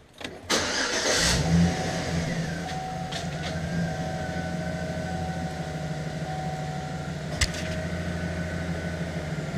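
A 2009 GMC Sierra engine cranks briefly, catches and settles into a steady, moderately loud idle that runs without break, with a faint whining tone and a single sharp click near the end.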